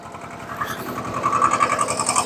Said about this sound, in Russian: такой трактор Шибаура SD2200 работает